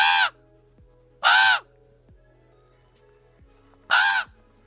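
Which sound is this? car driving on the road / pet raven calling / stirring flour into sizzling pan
pet raven calling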